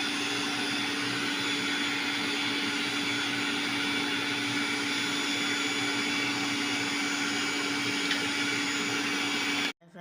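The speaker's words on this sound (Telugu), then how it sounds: "ఇది జ్యూస్కి మిక్సీ పట్టేసాం కదా క్యారెట్ బీట్రూట్" Mixer grinder blending carrot and beetroot juice, a loud, steady whirring roar running unbroken for about ten seconds before cutting off abruptly at the end.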